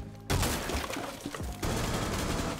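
Gunfire in Rainbow Six Siege, a loud burst of rapid automatic shots that erupts suddenly, briefly dips, then resumes in a dense continuous volley.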